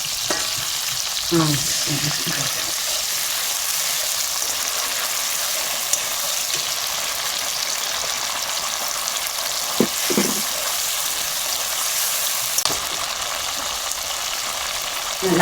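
Spices frying in hot oil for a soybean kofta curry, a steady loud sizzle throughout with occasional stirring scrapes and clinks of a utensil against the pan.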